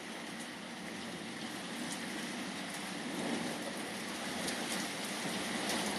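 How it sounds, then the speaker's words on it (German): Rain pours steadily during a coastal thunderstorm, a dense, even hiss of drops on surfaces that swells slightly midway and continues without a break. "Ach komm, das ist ein Regen."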